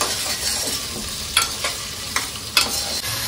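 Vegetable pulao with beans being stirred in a pot, a steady sizzling fry broken by several distinct scraping strokes of the spoon, close and clear with no talking.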